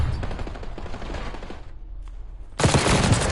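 SMG fire in a competitive video game match: rapid continuous bursts of automatic gunfire, a brief lull, then another dense, louder burst.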